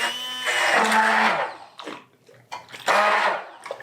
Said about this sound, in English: I'm just taking my immersion blender and I'm going to blend this all together